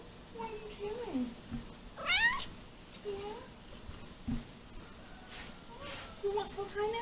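Several meows from a cat waiting near a kitchen where pineapple is being prepared for jam, rising and falling calls spread across the moment, with a person speaking softly between them.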